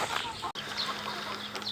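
Lohmann Sandy hens about five months old cluck softly and steadily close by, with scattered higher chirps over a faint background hum and no talking.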